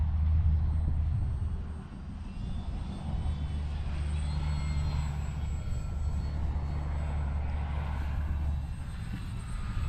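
A small HobbyZone Carbon Cub S2 RC model airplane's engine hums steadily at a distance, its faint whine drifting over a constant low wind rumble.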